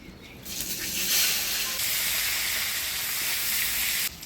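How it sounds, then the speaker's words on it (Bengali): Chopped onions hit hot oil already tempered with dried red chilli, bay leaf and whole cumin in a village kitchen, bursting into a loud, continuous close hiss and sizzle that holds steady to the end. "এবারে দিয়ে দিব পেঁয়াজ কুচি।"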